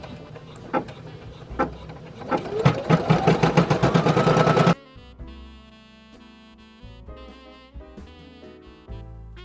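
An embroidery machine stitching a handkerchief gives a fast, loud run of rhythmic mechanical clatter that stops abruptly midway, followed by quieter tones.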